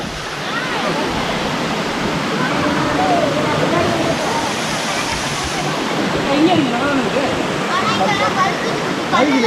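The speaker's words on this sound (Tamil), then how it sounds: "அவ்வளோ ஃபால்ஸ் வந்தாச்சு. வேறு லெவலில் இருக்குது ஃபால்ஸு." A waterfall in the Yelagiri and Jawadhu Hills rushes with a steady, loud roar that never lets up, while people talk over it.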